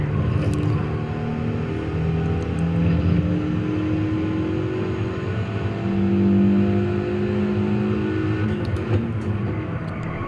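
Race cars in Gran Turismo 7, including a Jaguar and a Ferrari, drone steadily as their engines rise and fall in pitch through gear changes, a continuous close engine roar with no talking.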